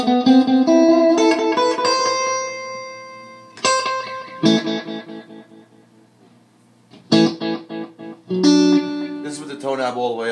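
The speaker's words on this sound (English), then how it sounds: "This is with the tone knob all the way up. It's a very dark echo." An electric guitar played through a Roland DC-30 analog chorus-echo with the tone knob fully up: separate strummed chords, each trailed by repeating echoes that fade away, with pauses between phrases.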